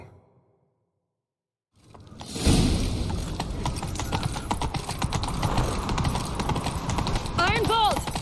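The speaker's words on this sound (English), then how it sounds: "Grab a horse, we'll chase him down." Horse hooves clatter in a fast gallop in The Witcher 3, starting after a brief silence and pounding on with rhythmic clip-clop, with game voices speaking over the ride.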